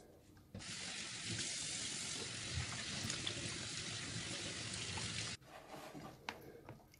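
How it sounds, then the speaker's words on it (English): A kitchen tap runs steadily for about five seconds while hands are washed under it during digestive biscuit baking, a broad even rush of water that stops abruptly, with faint handling sounds afterward. "I'm going to use my hand, so I've got to wash my hands."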